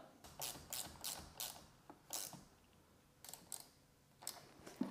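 Nut being tightened back onto a car battery terminal under the hood of a 2022+ Subaru WRX, heard as short bursts of ratchet clicking in separate runs with pauses between, close and fairly quiet.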